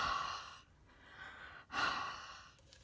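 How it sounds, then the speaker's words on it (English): Soft breathy huffs on an inked rubber stamp to moisten it before stamping a toile Christmas design, two close exhalations with a pause between, the second slightly stronger. "now I'm going to breathe on this so that the parts that are a little dry"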